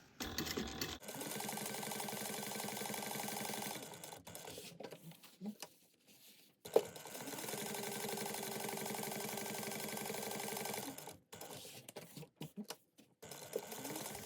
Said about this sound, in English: So make sure to back stitch really well at the beginning and the end. So I'm going to sew down here, across the bottom, and then back up